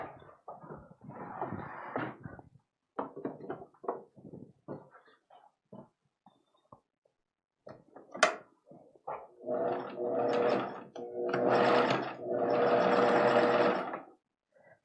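Bursts of a sewing machine stitching an ironing board cover, short stop-start runs at first then longer steady whirring passages near the end, close and fairly loud with pauses between.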